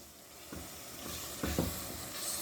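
Minced mutton keema fries in a pan, making a faint, low sizzle with a few soft stirring scrapes and a brief louder patch near the middle. No voices are heard.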